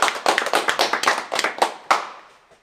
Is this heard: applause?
yes